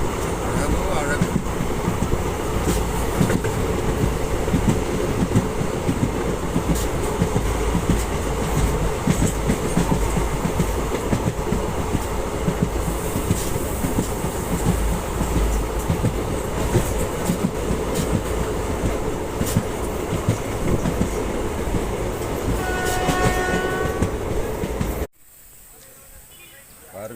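A passenger train runs steadily from Tiruvannamalai toward Vellore, a loud continuous rumble with rail clatter throughout, a brief horn-like tone near the end before the sound drops off abruptly.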